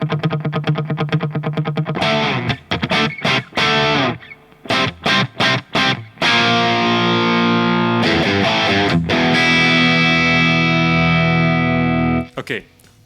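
Distorted electric guitar played through a Rodenberg BL800 British Legend overdrive pedal set for a Marshall 800 tone, loud chords and riffs ringing out with short pauses between phrases.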